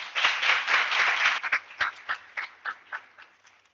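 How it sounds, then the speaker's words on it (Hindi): An audience at a university inaugural session claps to welcome the head of the sociology department, full applause at first that thins into scattered single claps and dies out. "उनका तालियों से स्वागत कीजिए।"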